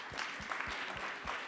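An audience applauding at a New York event on social equity in the cannabis industry. The clapping is steady and fairly faint, heard from a distance for a brief moment.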